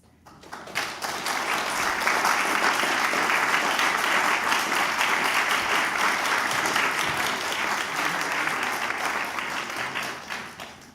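Sustained applause from a forum audience, rising quickly from near quiet into a thick, even roar of many clapping hands that holds for about ten seconds before easing off at the end.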